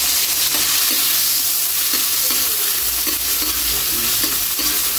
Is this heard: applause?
no